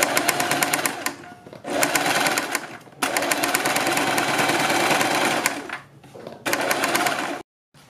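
A sewing machine stitches along the edge of a garment neckline in loud, steady bursts of rapid mechanical whirring, separated by short pauses and ending abruptly.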